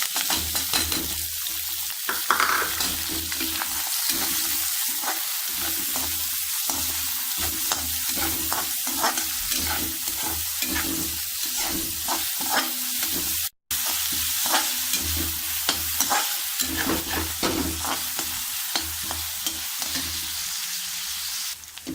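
Onions frying in a pan of oil with vegetables for a veg kathi roll, a steady loud sizzle with frequent rhythmic stirring scrapes throughout, briefly cut to silence midway.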